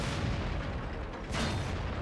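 Dense, continuous battle noise from World of Tanks fills the whole stretch, with a sharp burst near the middle that fits a tank cannon firing on the Himmelsdorf map, loud and with no talk.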